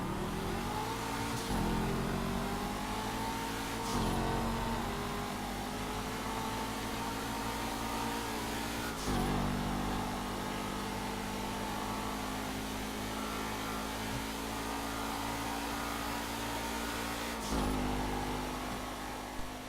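Racing-version Massacro and Jester cars in GTA V, engines revving hard and steadily through repeated gear shifts with sharp jumps in pitch, a continuous loud whine with no talking.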